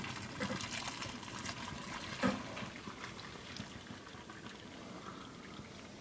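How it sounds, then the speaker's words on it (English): Pasta cooking water pours and trickles through a strainer, a soft splashing stream that tapers into faint dribbling, quiet and close. "So once your pasta is done cooking, you're going to want to drain it."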